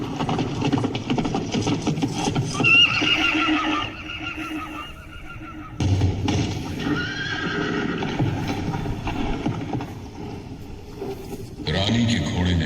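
Horse neighing and hoofbeats in a recorded sound-and-light show at Gwalior Fort, mixed under dramatic narration and music, with whinnies rising above the background and galloping clip-clop in stretches.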